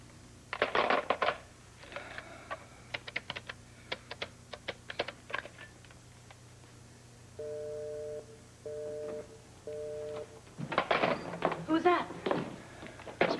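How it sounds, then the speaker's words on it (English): A telephone busy signal heard through the handset, several even on-off tone bursts in a row, between clicks and clatter of handling the phone, with voices around it. "Busy signal."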